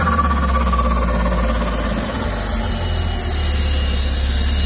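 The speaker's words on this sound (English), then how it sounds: "Y'all hear that turbo flutter?" Volvo 940 turbo engine running steadily up close, a loud continuous low rumble with a faint fluttering texture from the turbo and no voices over it.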